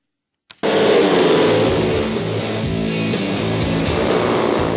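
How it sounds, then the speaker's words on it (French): Long track motorcycles race on the grass of a horse-racing track at Questembert, Brittany: after a brief start, a loud, dense engine roar holds steady and close throughout. "Sur l'hippodrome, le vacarme des moteurs a supplanté le bruit habituel des sabots."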